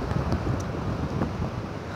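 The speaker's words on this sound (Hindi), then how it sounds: "ये देखें हवा के ज़रिए लहरें बन रही हैं" Wind blows across canal water at Head Sagar near Hafizabad, Pakistan, a steady gusty roar buffeting the microphone with faint lapping of small waves beneath.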